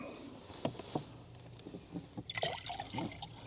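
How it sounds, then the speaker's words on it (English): Water poured into a hot kettle at a winter teardrop trailer campsite, with a brief hiss and trickle. Small drips and clinks break up the sound and grow busier near the end. "It sizzled when I put water in it."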